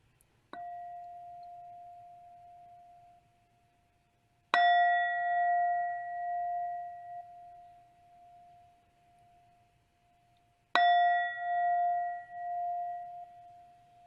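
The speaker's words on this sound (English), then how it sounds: "And I'll end this practice just by ringing this prayer bowl." A prayer bowl is struck three times, each strike ringing out with a bright sustained tone that fades slowly before the next, clear and alone in quiet surroundings at the close of a meditation.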